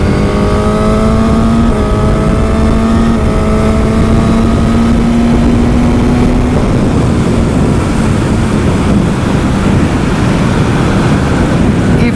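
A Suzuki GSX-S1000 naked motorcycle accelerating hard with quick shifts, its engine note rising in steps through the gears beneath heavy, constant wind roar that swamps the microphone, continuous and loud.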